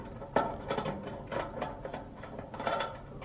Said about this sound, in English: use a screwdriver to tighten those up all the way